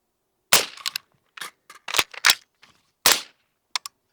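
A gun magazine is swapped in a reload drill behind a barrier, giving a close series of sharp metallic clacks and snaps, several separate clicks spaced irregularly with silence between.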